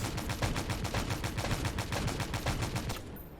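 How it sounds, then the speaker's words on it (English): A tank gun in the video game Stormworks fires a rapid, evenly spaced burst of about twenty loud rounds for three seconds, then stops abruptly. "So if we just go ahead and shoot some ammo off"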